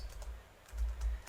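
A few soft keystrokes tap on a computer keyboard, quiet and close, over a low background hum.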